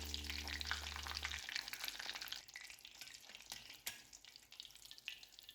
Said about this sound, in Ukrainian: Обсмажуємо бургер у розігрітій олії по півтори хвилини з кожної сторони до золотистої хрумкої скоринки.